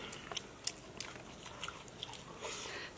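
Crisp bites and moist chewing on garlic-fried pork ribs with crunchy skin and tender meat, several close crackling crunches spread over a few seconds with no talk.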